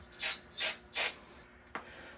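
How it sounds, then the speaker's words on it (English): Three short bursts of carburetor cleaner sprayed into the carburetor of a Ryobi gas weed whacker, each a close sharp hiss, followed by a faint click. "spray a little carb cleaner in there"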